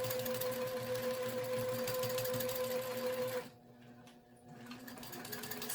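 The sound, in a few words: domestic sewing machine straight line quilting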